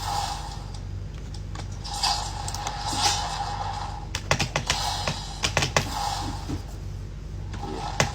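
Typing on a Bugha gaming keyboard gives a run of close, sharp key clacks in uneven bursts, heavier thuds mixed in, over a steady low background hum.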